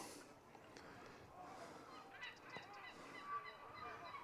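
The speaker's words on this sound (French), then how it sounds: "Il me semble que ce sont des goélands." Loud, raucous squawks pour from a dense gull colony on the Rock of Calpe in Spain, a continuous overlapping chorus of honking calls with wind and faint voices mixed in.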